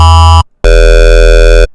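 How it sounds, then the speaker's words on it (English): A loud, buzzy, harmonically rich distorted square-wave synth lead made in Serum plays two sustained notes separated by a brief silence, the second held for about a second. "We have a distorted square wave now, even though we couldn't actually really distort this."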